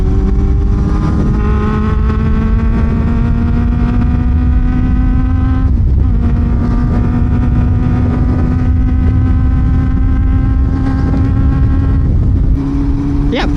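Honda CB400 motorcycle fitted with a Yoshimura R77 exhaust, its engine revving loudly and steadily up close, pitch climbing through gears with brief dips at shifts and a raspy exhaust note throughout.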